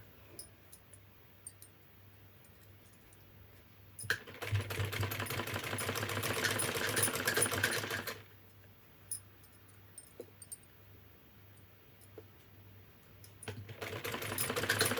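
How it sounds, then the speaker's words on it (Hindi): A sewing machine runs stitches along the edge of a 36-inch lined blouse, two steady whirring bursts of about four seconds each, loud and close, separated by quiet handling sounds over a low hum. "इसके किनारे किनारे नीचे सिलाई डालना है"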